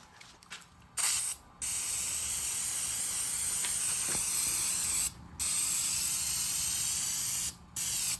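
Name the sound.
spray painting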